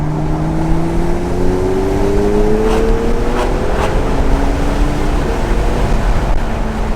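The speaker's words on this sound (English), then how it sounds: "Straight to red line. Accelerated smoothly there." A Porsche 911 GTS engine pulls hard toward the red line, its loud rising drone climbing steadily over several seconds with brief shifts, close and continuous with road rush underneath.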